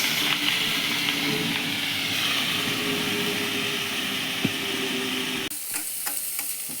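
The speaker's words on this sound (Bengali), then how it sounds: "এরপর নিম পাতাটা তেলে কড়া করে ভেজে নিতে হবে" Neem leaves frying crisp in hot oil give a steady, loud sizzle and crackle for most of the clip, then the sound suddenly drops to a quieter hiss with small stirring clicks near the end.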